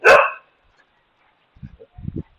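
One sharp, loud bark from a dog at a rundown shelter near Khao Lak, Thailand, then a pause and a few quieter low grunts and yips.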